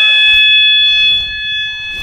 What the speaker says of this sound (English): We all have the fire alarm.